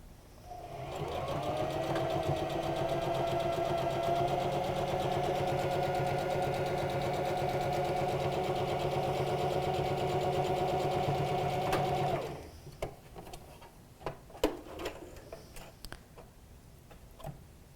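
A sewing machine runs steadily for about twelve seconds, stitching together fabric mouth pieces of an Olson face mask, then stops, leaving a few scattered clicks and handling taps.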